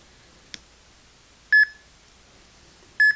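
Two short electronic beeps from a smartphone EMF meter app, about a second and a half apart, clear and close, after a faint click, with near silence between.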